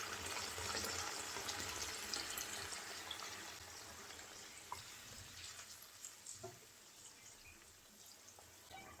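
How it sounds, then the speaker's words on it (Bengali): Hot water pours steadily into a pot of cooking beef for tehari, a continuous splashing hiss with faint sizzling that gradually eases, fairly quiet and close. "এখন মাংসের মধ্যে গরম পানি দিয়ে দেবো"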